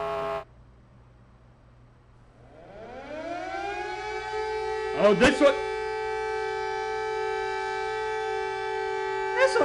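Emergency Alert System alarm tones: a sustained, loud wailing siren-like tone rising in pitch and holding steady, with a brief burst of harsh attention beeps midway; a person reacts briefly with an exclamation over it.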